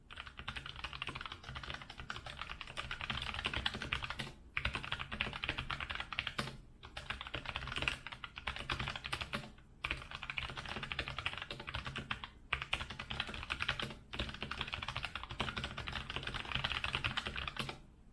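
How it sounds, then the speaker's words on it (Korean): Typing on a Logitech MX Mechanical Mini keyboard with tactile quiet switches gives a fast, muted patter of keystrokes in bursts. Brief pauses separate the bursts, and the keys sound close up with no voices. "타이핑하는 소리를 잠깐 들어보도록 하겠습니다."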